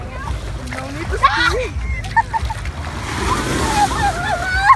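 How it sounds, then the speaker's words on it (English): Ocean waves wash and surge onto the shore as the tide comes in, a steady broadband roar with splashes, while children's voices chatter and call out over it. "The tide coming up."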